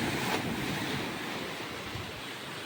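Sea waves roll steadily onto Chandipur beach on the Bay of Bengal, a continuous broad wash of surf mixed with wind buffeting the microphone, with no voices.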